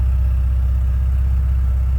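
A stock 1986 Porsche 944 engine with standard exhaust idles steadily, a smooth low rumble with an even, rapid pulse, close by and alone throughout.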